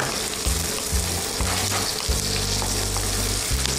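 Onions sizzling and frying in a hot pan, a steady close crackle with brief stirring scrapes, no voices.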